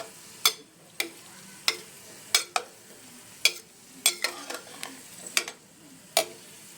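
Gongura dal, cooked soft in a pressure cooker, stirred with a ladle: about a dozen sharp scrapes and knocks against the pot, spaced irregularly, fairly close, with no voices.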